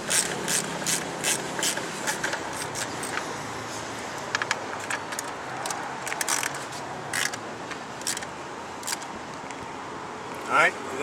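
Ratchet working on a spark plug of a 2010 Nissan Sentra: repeated sharp clicking strokes in irregular bursts throughout, close up over a steady hum, with someone talking intermittently.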